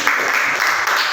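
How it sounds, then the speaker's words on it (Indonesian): Applause in a classroom for a student group that just finished presenting, a short burst of fairly even clapping with no talk over it. "Oke, tepuk tangan untuk kelompok 4."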